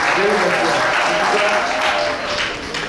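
Guests applauding a couple at a civil wedding ceremony: steady, dense clapping that fills the room and tapers slightly at the end, with some voices mixed in.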